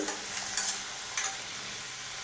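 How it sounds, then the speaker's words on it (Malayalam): Sliced tomatoes and salt sizzle steadily in a pan while radish mezhukkupuratti cooks, a continuous close frying hiss with a few brief stirring scrapes and no talk. "ഇനി അതിലേക്ക് നമ്മൾക്ക് 2 ചെറിയ തക്കാളി നീളത്തിൽ അരിഞ്ഞത് ഇട്ട് കൊടുക്കാം"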